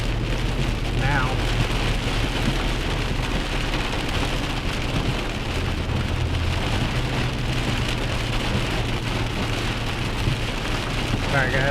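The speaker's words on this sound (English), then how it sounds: "it looks like it's just heavy rain" Heavy rain pours steadily and loudly throughout, a dense unbroken hiss of drops with a low rumbling undertone, heard from inside a vehicle during a live storm.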